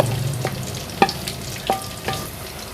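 Spices and sliced onions fry in a pan, a low continuous sizzle close by with occasional stirring scrapes and clinks, no talking.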